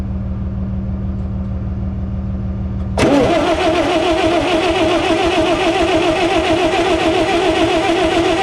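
A forgotten gas-powered Bobcat skid steer cranks with a steady rhythmic starter churn for about three seconds, then the engine catches and runs loud and rough nearby, with no talking.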